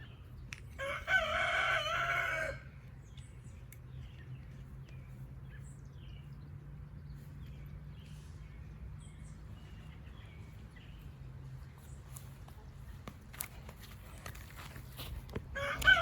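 A rooster crows once, loud and fairly close, at the very start, then the scene falls to quiet outdoor background.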